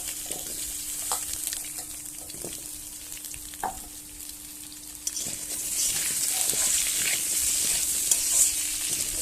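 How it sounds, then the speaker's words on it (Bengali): Potatoes fry in oil in a pan with a continuous close sizzle, punctuated by scraping stirs of a spatula, the sizzle growing louder and brighter toward the end, with no talk. "তো আলুগুলো আগে একটু লাল লাল করে ভেজে নিয়ে"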